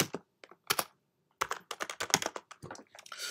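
Quick bursts of clicking keys on a computer keyboard as a comment is typed into Python code, close and crisp, with a brief pause before a faster run of keystrokes.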